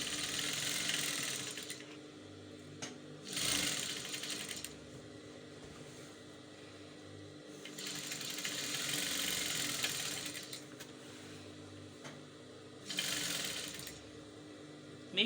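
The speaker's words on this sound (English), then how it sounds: "So I'm going to sew in the facing and turn it over and top stitch." A sewing machine stitches a dress facing in short, quiet bursts, its soft mechanical whir rising and stopping several times amid faint handling rustles.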